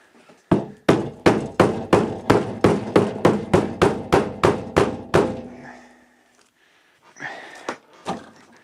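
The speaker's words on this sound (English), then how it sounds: "Just a few taps with that hammer." A hammer taps a carbon fiber door skin about seventeen times in a steady, quick rhythm, sharp and close, then stops; a few softer knocks follow after a pause.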